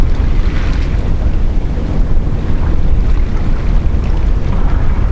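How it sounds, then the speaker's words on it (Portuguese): Rough open sea and strong wind buffet a fishing kayak in a storm while fishing for sea bass, a loud continuous roar of waves and wind noise on the microphone with no speech. "Muita corrente, muito mar."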